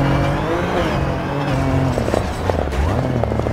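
Rally car in DiRT 4, its engine droning steadily with pitch rising and falling through gear changes and a few tire squeals near the end, under a co-driver's spoken guidance.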